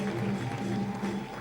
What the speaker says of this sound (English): Please let's receive Doctor with a big round of applause.